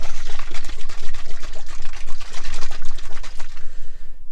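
A bottle of leather conditioner being shaken hard, with liquid sloshing in quick, rhythmic bursts, close and loud for a few seconds before easing off.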